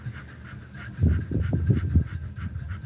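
A dog pants rapidly and rhythmically close by, quick breathy huffs repeating steadily with no voices over them.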